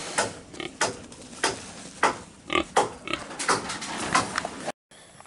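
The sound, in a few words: pig grunting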